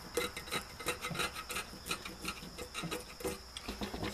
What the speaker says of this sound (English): scraping this crap out.